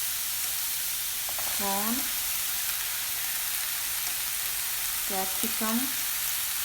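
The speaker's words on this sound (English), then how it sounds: "the oil got heat, add garlic, saute well, then grated carrot" Garlic and grated carrot sauté in hot oil for a carrot white-sauce pasta, a continuous close crackling sizzle running under two short bursts of talk.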